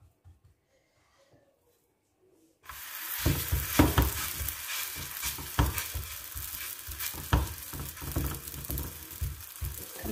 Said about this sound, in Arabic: هنا بديت الطياب.